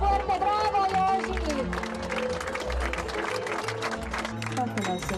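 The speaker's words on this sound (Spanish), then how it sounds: "¡Un aplauso fuerte! ¡Bravo, Yoshi!" Loud applause and cheering from a gathered audience for Yoshi, steady dense clapping mixed with voices and crowd chatter, sustained through the whole stretch.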